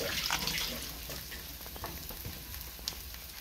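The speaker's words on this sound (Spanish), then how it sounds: "aquí vamos a proceder a freír las salchichas" Sausages, cut into pieces, frying in a pan for a rice dish, giving a steady close sizzle with faint crackles and a small pop near the end, no voices.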